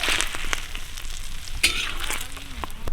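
Whole cumin, cinnamon, cloves, cardamom and bay leaf crackle in hot oil in a kadai, a close, steady sizzle with quick pops and a sharp spoon clink partway through, no talking.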